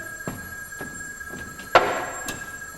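An electric bell rings insistently indoors, a steady high tone running throughout with a regular series of dull knocks, the loudest about two-thirds of the way through.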